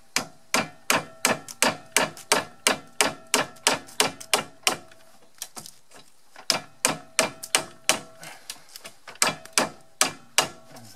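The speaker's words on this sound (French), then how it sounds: "Je vais carrément prendre la massette." A mallet striking the sway bar on a BMW E36 during removal, giving a fast steady run of sharp metallic blows, briefly pausing midway and then resuming, loud and close with no talk.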